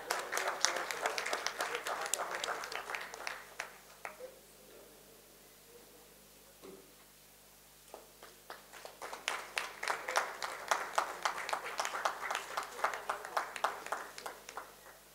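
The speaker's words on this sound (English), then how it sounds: "let's give her a huge round of applause" An audience at a summit inauguration gives a round of applause, clapping for several seconds, dipping into a quieter pause with faint voices, then swelling again into strong clapping.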